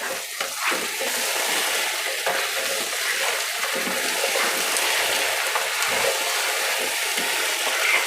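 A potato, green bean and sausage stew cooks in a pot, giving a continuous soft sizzle and bubbling with a few small stirring sounds along the way.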